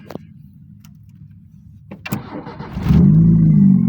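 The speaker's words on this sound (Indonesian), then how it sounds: "Setelah sudah pada nyala, baru kita cek dulu, takutnya masuk gigi, baru kita starter." A Toyota Timor car engine is cranked with a brief starter whir after a few clicks, then catches and settles into a loud, steady idle.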